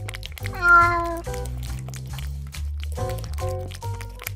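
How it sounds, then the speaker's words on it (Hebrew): A cat meows in short tonal calls over a bed of music, two or three close, clear cries, with a voice speaking alongside. "חתול."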